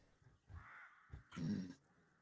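A crow-like bird call used as a sound effect during a tabletop game session, a few short caws ending in one louder, harsher call, alone against a quiet background.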